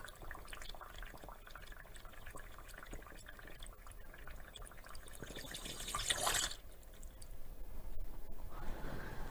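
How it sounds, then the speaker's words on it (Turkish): Gas bubbling up through water in a classroom science demonstration on states of matter, a steady low watery gurgle and trickle that swells to a louder burst of bubbling near the end. "Suyun içerisinde çıkardığı baloncukları."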